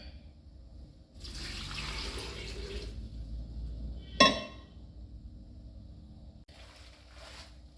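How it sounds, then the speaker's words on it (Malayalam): Water is poured into a vessel in one short, splashy stream lasting about two seconds, followed by a sharp clink and then a fainter second trickle in a quiet room. "വെള്ളം ഒഴിക്കാം."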